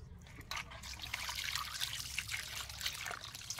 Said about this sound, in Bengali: ভালো করে ধুয়ে নিয়েছি, কাটার পরে আবার ধোবো।